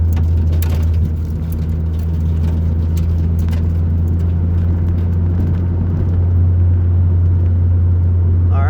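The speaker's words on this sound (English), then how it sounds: "I'm currently driving my Celica right now." Engine of a Toyota Celica GT while driving, a loud steady low rumble with road noise, heard from inside the car with no talking.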